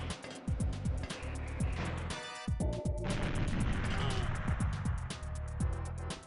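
In GoldenEye 007 (1997), a grenade explosion bursts amid clattering, crashing game effects, with loud repeated impacts and a heavy boom over a busy backdrop.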